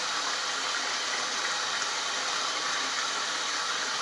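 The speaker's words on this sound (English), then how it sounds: "now you're just splashing us on purpose." A pet goose bathing in water, with a steady, loud rush of water and spray that continues without a break for the whole stretch.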